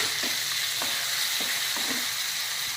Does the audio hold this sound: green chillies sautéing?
yes